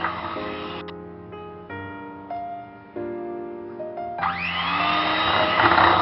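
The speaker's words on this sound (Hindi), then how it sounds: "चीनी को अच्छे से मैं बीट करके मिक्स कर लूंगी।" An electric hand mixer beating sugar into zebra cake batter, a steady whirring motor drone that shifts pitch as the speed changes and grows louder and harsher toward the end, with no talking.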